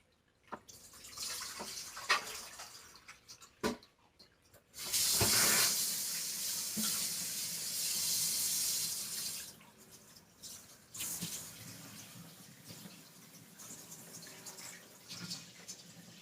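Water from a cooking pot pours into a colander in a home kitchen, rising to a loud, steady splashing rush in the middle and then easing into softer trickles and drips, with clatters around it.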